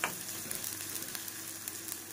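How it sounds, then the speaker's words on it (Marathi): Chopped onion fries in hot oil in a home kitchen, giving a soft, steady sizzle and crackle at low volume with no talking. "आपला छानपैकी कांदा तेलामध्ये भाजतोय"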